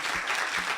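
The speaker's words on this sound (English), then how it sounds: "a big round of applause for our guest speaker." Brief, steady applause from an audience welcoming a guest speaker at an event about energy and sustainability, a dense wash of clapping heard for under a second.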